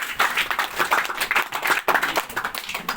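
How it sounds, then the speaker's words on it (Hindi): Audience applause at an RCM business meeting seminar, a dense burst of clapping from many hands that runs steadily throughout, loud and close, with brief swells and no talk over it. "एक जोरदार ताली सर"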